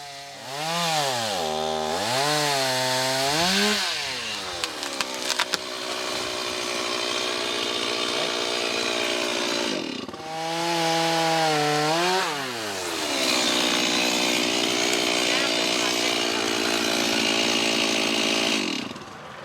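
Dull-chained chainsaw cutting trees beside a building, the engine revving up and down in long loud whining surges with rising and falling pitch, idling briefly between cuts.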